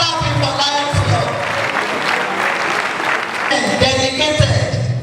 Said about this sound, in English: Who is not clapping for Lions Club?